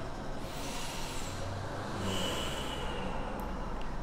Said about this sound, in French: On va souffler, respirer.